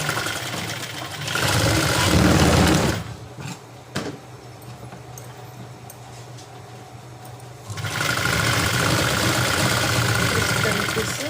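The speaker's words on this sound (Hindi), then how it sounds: "इस तरीके से साइड में सिलाई लगा रही हूँ मैं ये" Electric sewing machine stitching a side seam in chiffon fabric for palazzo trousers, running in two loud steady bursts separated by a quieter pause, close by.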